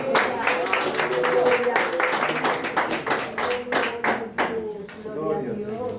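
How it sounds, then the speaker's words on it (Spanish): A church congregation claps in rhythm during a service, lively repeated hand claps mixed with voices singing or calling out. "aplauso al que vive."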